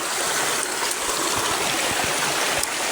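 Steady rushing of a shallow stream flowing over rocks, close and continuous, with small splashes and gurgles throughout.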